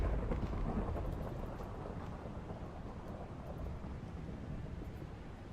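Minecraft thunderstorm: a deep rolling rumble of thunder over steady hissing rain, loudest at the start and then settling into a continuous low roar with no voices.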